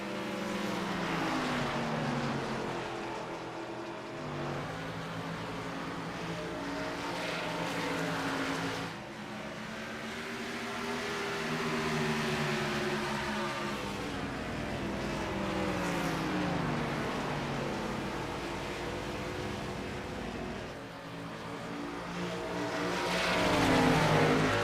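Gen 4 Cup stock cars racing in a video game at New Hampshire Motor Speedway, a continuous roar of several engines rising and falling as cars run close together through the turns, loud and unbroken throughout.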